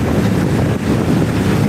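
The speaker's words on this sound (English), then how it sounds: "Wow, that's windy." Strong wind buffets the microphone aboard a Thames Clipper boat on the river, a continuous loud low roar and rumble with no break, alone without speech.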